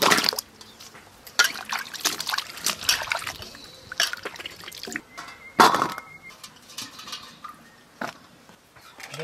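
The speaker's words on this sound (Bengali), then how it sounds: "আলু ধুয়ে নেব" Potatoes being washed by hand in water, with irregular splashing, dripping and sloshing and a few clinks of a pot, close up with no talking.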